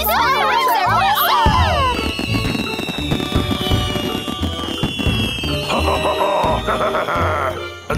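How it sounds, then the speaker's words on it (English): Cartoon New Year fireworks burst and crackle in quick succession, with rising whistles and loud pops layered over bright music. "Wow, these fireworks are awesome."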